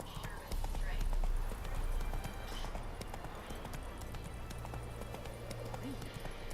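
Roach, a horse in The Witcher 3, gallops in a steady, continuous run of hoofbeats across the whole stretch, with someone talking over it and game sounds mixed in.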